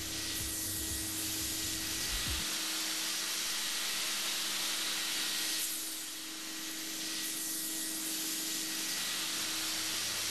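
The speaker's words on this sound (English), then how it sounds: "Once the operating table has been steam cleaned" A steam generator hisses steadily as it cleans a hospital operating table, a continuous close spray of broadband steam noise with a faint mechanical hum underneath, no talking.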